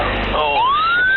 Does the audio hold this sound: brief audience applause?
no